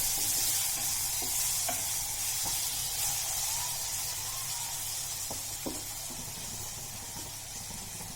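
Tomatoes sizzle and are stirred in a frying pan over lowered gas heat while dal chakolya is being made, giving a steady broad hiss with occasional scrapes and clicks of the spoon, close and continuous.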